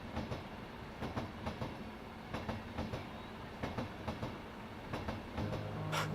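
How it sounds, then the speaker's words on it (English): A train rolls along the rails with a rhythmic clickety-clack of wheels over joints, moderately loud and steady, ending with a brief hum and a sharp hiss. "I hear the train a-coming."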